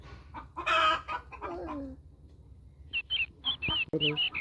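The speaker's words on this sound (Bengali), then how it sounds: "এটা মুরগির ঘর মুরগি মুরগি এখানে থাকে" Chickens in a village coop in the morning: a loud, drawn-out call near the start, a quieter pause, then a run of short, sharp clucks and squawks close by.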